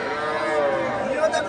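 Cattle lowing at the Bogura cattle market, where local-breed heifers are sold: a loud, drawn-out moo close by over busy crowd noise.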